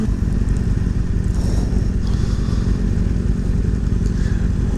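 A motorcycle riding steadily just after a short wheelie, with a loud, continuous engine drone and wind rumble close up throughout.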